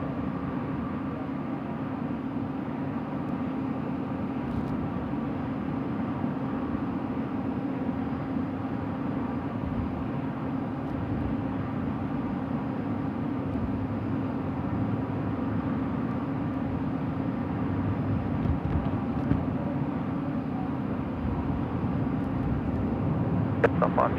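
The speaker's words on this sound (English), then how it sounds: "Qantas 473 now cleared for takeoff" Qantas 473 taking off from runway 16 right at Sydney Airport at night: a steady, distant, low jet roar that holds throughout, with faint voices underneath.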